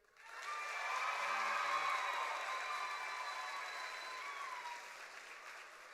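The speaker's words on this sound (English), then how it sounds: "can I get one huge round of applause again?" A graduation audience for the KIPP Indy Legacy High class of 2026 applauds, swelling quickly into steady, distant-sounding clapping that holds for several seconds in a large hall, with light cheering mixed in.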